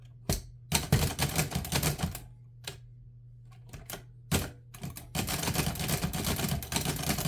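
A 1937 noiseless portable typewriter, Remington or Underwood, strikes in short bursts with pauses between, soft muffled clacks close up, ending in a run of steady typing.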